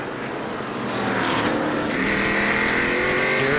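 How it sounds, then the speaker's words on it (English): A NASCAR stock car at the 2003 Subway 500 accelerates off a turn, its engine roar building and swelling into a loud, sustained high-revving drone that holds steady to the end. "Hear how he picks that gas up?"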